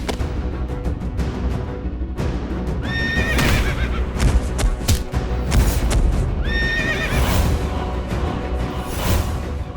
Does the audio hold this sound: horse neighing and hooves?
yes